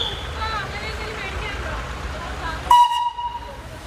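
A train stopped at a level crossing during a road-trip traffic jam sounds a sharp whistle toward the end, over rumbling ambient noise and a voice talking nearby.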